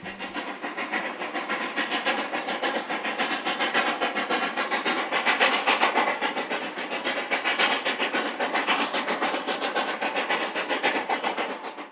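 A steam railroad train runs steadily at close range, a dense continuous rumble of wheels and rail clatter with no talk and no whistle standing out.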